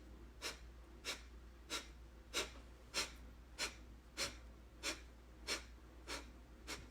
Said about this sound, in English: It's a squeeze in and a lift up to pump the breath out when you exhale.